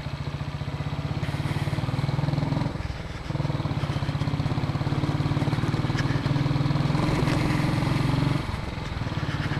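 A motorcycle engine drones steadily on a dirt road, near and loud, with a brief dip in revs partway through before holding an even pitch again.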